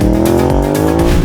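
A 2024 Ducati Panigale V2 V-twin sport bike rides past at high revs, a loud, close, continuous engine roar with rapid gear-shift dips and throttle changes, with no talk.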